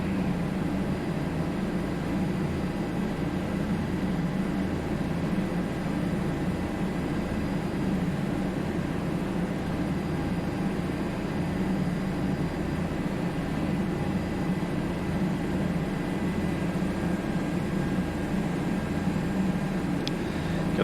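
A Milviz Bell 407 helicopter flying over Katherine (Nitmiluk) Gorge in a flight simulator game, a steady dense engine and rotor drone that stays constant and loud throughout, with no breaks.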